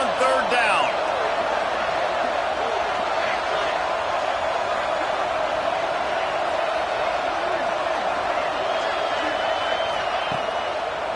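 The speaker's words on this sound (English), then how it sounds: "Crowd getting this defense whipped up on 3rd down." Stadium crowd at a college football game roars steadily on a third down, a dense, loud wall of cheering and noise holding without break for the whole stretch.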